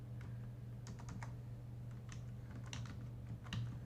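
Quiet typing on a computer keyboard, irregular light clicks in short bursts over a low steady hum, close up and alone.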